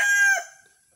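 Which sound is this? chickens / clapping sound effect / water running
chickens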